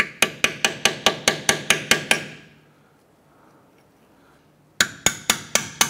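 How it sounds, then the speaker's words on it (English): Hammer driving a chisel tip between a corroded steering knuckle and the aluminium wheel hub of a 2006-2013 Chevrolet Impala, a fast run of about ten ringing metallic blows, a pause, then five more strikes. "we're just gonna use a chisel tip, and we need to get between the knuckle and the unit itself"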